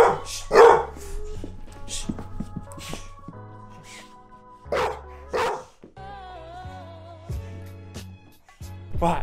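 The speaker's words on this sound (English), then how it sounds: "now we stopped him barking" A dog barks several times in loud, separate bursts with pauses between them, over a low steady background hum and some tonal noise, with no talk.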